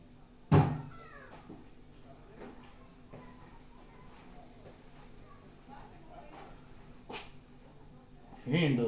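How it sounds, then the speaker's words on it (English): A neighbor's cat meows briefly and loudly early on, with a few fainter calls after, while voices murmur from a birthday party nearby. "she is my neighbor's cat"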